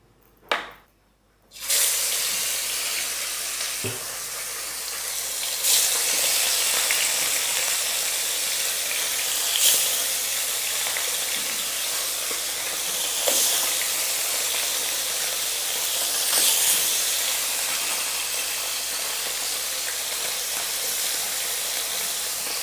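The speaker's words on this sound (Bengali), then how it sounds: "আমি এখন মাছগুলো একে একে সব ভেজে নিব।" Koi fish fry in hot oil with a loud, steady hiss that holds almost without pause. A few faint pops and spatters rise above it, and a brief quiet comes at the start.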